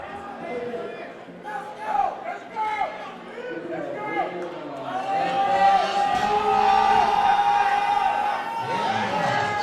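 A crowd at a drug-tested national powerlifting championship cheers and whoops for a woman's deadlift attempt, rising from scattered shouts into loud sustained cheering, with an announcer talking over it.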